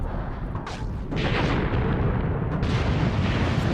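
In a WW2 tank combat game set at the Battle of El Guettar in Tunisia, a heavy shell explosion scatters shrapnel, bursting loud and close and then rolling on as a sustained rumbling roar.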